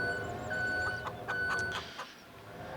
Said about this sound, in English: first animals on the farm. We got chickens on the dairy farm.